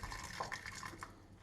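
A little water is poured over gelatin and sugar for the fruit layer of a no-bake Ukrainian cake, a short, soft close trickle with no voices.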